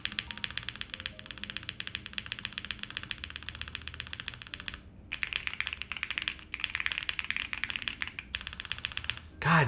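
Fast, continuous clacking of keystrokes on a Luminkey 65 mechanical keyboard fitted with a GMK spacebar and foam, close and crisp, with a brief pause midway and a low thump at the end.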